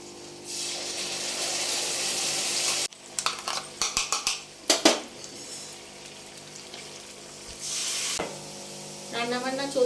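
Onion and spice masala sautéing in a pan: a steady sizzle first, then a run of sharp spoon-against-pan knocks and scrapes, settling back into a softer fry with more stirring near the end, no clear speech.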